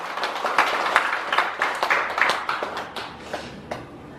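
Scattered hand claps from a small gathering at a Buddhist study session, uneven and moderately close, slowly thinning out over a few seconds with no talking.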